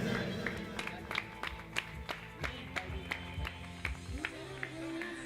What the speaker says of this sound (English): Round of applause for Dennis.